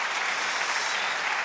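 A church congregation gives a dense, steady round of applause, continuous and evenly loud throughout with no speech over it.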